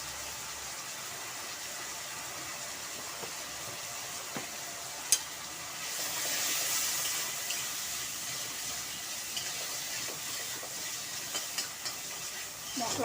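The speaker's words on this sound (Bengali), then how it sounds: "মশলাটা একটু ভালোভাবে কষিয়ে নেব।" Spice masala of turmeric, salt and coriander powder with a little water, frying and sizzling in a pan, a faint steady hiss with occasional light clicks and stirring sounds.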